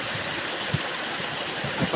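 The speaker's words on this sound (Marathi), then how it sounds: "पाणी कसं शांत चित्ताने पडते" Water falling steadily in a stream during rain, a continuous soft rushing wash with faint voices in the background.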